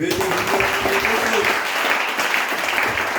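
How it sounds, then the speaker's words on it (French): A church congregation applauds together, a dense, continuous burst of clapping filling the room for a few seconds. "On acclame le Seigneur."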